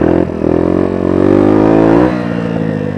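A Sinnis Apache 125 motorcycle engine revs up and holds high at about 4,000 rpm, then drops off sharply toward the end, loud and close with a slight clatter and no voices.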